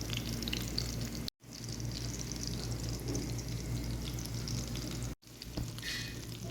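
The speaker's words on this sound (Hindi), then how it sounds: "अभी इसको हमने पलट लिया है ताकि नीचे से भी फ्राई हो जाए" Minced raw meat kebabs frying in a pan after being flipped, a steady close sizzle with spitting crackles, broken by two brief cuts of silence.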